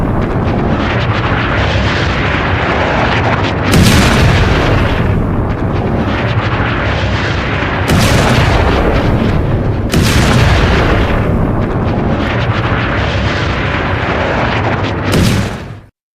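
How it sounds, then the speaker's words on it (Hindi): Explosions from an Israeli strike on a Hezbollah position, heard as a continuous loud, rumbling roar with several sharp, heavier blasts bursting through, no speech. "ये एक और हमला है, इजरायली हमला जो हिजबुल्लाह के ठिकाने पर है।"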